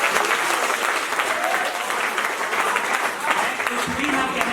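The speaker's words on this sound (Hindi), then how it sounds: "एक बार चाहता हूँ उन्हें जोरदार तालियों से" Loud, dense applause from a seated audience at a Hindi poetry gathering at a government college in Bibinagar, steady clapping filling the space without pause.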